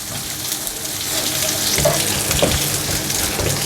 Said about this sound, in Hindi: शामिल करेंगे 1 अदद शिमला मिर्च पीसेस में, अच्छे से हिला लेंगे।